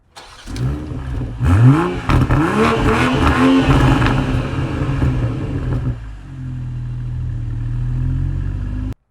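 A 2020 BMW M340i xDrive engine revs hard several times in quick succession with a throaty exhaust, then settles to a low rumbling idle.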